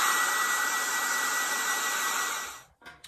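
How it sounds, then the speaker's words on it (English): A hairdryer blows with a steady loud whirring hiss, then cuts off abruptly near the end, followed by a brief rustle. "let's take our hairdryer and dry this a little bit."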